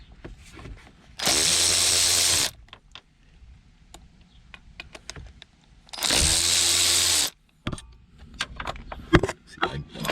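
A power tool whirs loudly in two bursts of about a second each while removing the shifter bolts on a Mustang GT 5.0, close by, with clicks, clinks and small knocks of handled parts between the bursts.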